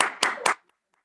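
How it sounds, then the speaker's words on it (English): Three sharp, close hand claps ring out in quick succession at an award ceremony, then fall silent; no voices are present. "Round of applause to Mr."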